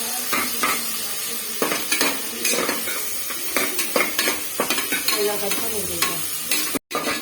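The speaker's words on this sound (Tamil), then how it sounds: "வெங்காயத்தை நல்லா வதக்கி விடணும்." Onions fry in a pan for vegetable biryani, sizzling beneath frequent, irregular scrapes and taps of a stirring spoon against the metal, close and fairly loud, with a brief dropout near the end.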